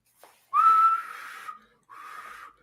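A person tries to whistle, producing a breathy, wavering tone followed by a shorter airy attempt after a brief pause.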